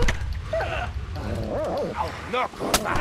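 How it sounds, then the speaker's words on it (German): A dog barking in the medieval video game Kingdom Come: Deliverance, a handful of close, sharp barks and yelps in quick succession over a busy fight background. "Mann, Hund!"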